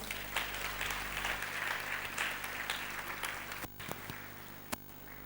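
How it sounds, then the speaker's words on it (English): Applause from an audience in a hall, a soft, distant wash of many hands clapping that fades slightly toward the end, with a couple of sharper knocks near the close. "give yourself a huge round of applause"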